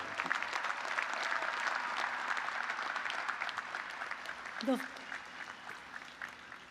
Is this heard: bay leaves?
no